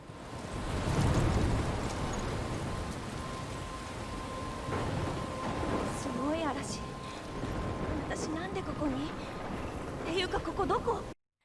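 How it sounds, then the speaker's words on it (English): Thunderstorm with heavy rain in the video game Life is Strange. A dense, continuous roar of rainfall fills the whole stretch, with voices and faint music-like tones layered over the downpour. "what a storm, incredible storm"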